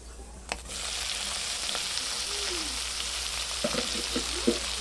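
Sliced pointed gourd (potol) fries in a pan with a steady, moderately loud sizzle throughout. A few sharp clicks and spatula scrapes sound close by.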